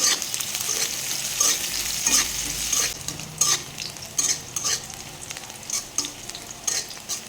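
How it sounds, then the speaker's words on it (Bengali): Chopped onion sizzles in hot oil with cinnamon and bay leaf while a spoon scrapes and stirs the pan in repeated close strokes, a steady frying hiss running underneath throughout with no voices. "আর একটু সময় নাড়াচাড়া কইরা আমি পেঁয়াজ কুচিটা দিলাম"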